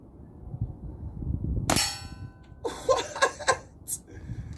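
An air gun fires and its pellet strikes a metal gong, giving one sharp clang with a ringing tail. Soft laughter and chatter follow, along with a few faint knocks.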